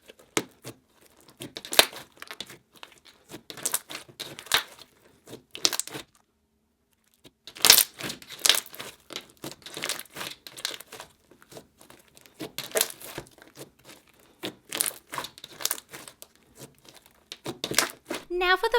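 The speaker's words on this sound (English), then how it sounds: "I decided to tear up some of these little foam packing pieces and mix this into the slime." Foam packing pieces being torn up and mixed into slime, giving repeated bursts of crinkling, crumpling and tearing at close range, with a brief pause partway through.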